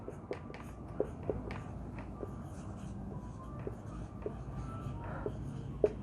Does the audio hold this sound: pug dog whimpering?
no